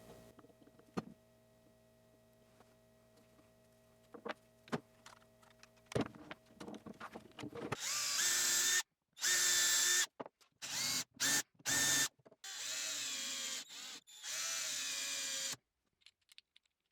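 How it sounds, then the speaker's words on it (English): A power drill drives screws into a wooden jig top, several loud whirring bursts of a few seconds each separated by pauses, after quieter clicks and handling of parts. "I'm just going to use a bit of wood glue and then reinforce it with some screws"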